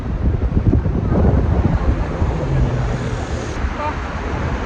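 Hot summer wind gusts in strong, steady, low roaring buffets across the microphone outdoors. It swells briefly near the middle, and faint voices may sit underneath.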